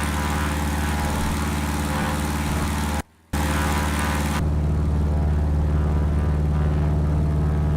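Steady propeller-aircraft engine drone at full power on the takeoff roll in the Dovetail Flight School simulator, loud and continuous, with a brief dropout partway and a deeper, heavier tone later in the climb.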